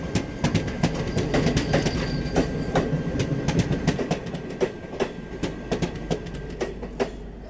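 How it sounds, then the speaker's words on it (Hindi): A passing train overtakes a stationary train on a neighbouring track near Vijaypur, Jammu, in the evening, heard close and loud as a rapid clickety-clack of wheels over rail joints with rumbling and metallic knocks. "इसको आगे निकाल रहे हैं, हमारी ट्रेन को ओवरटेक कर रही है"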